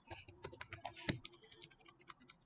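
Someone types on a computer keyboard, a quiet, close run of irregular clicks and key taps with one sharper stroke in the middle and no talking.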